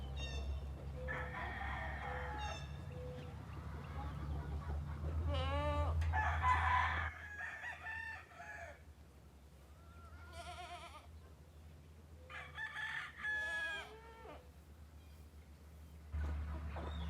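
Chickens and a rooster on a farm cluck and crow repeatedly over a steady low hum, with goat-like bleats mixed in, fairly close and moderately loud throughout.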